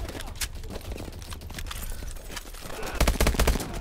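Pistol shots in Call of Duty Advanced Warfare, a handful of sharp reports scattered through the game's background noise, with a louder cluster near the end.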